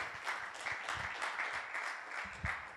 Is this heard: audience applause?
yes